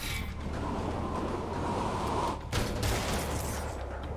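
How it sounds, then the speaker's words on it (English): A rocket in Marvel's Spider-Man Remastered roars as a steady, loud rushing blast with a sharp crack midway, the noise sustained and close throughout. "Sounds like a rocket."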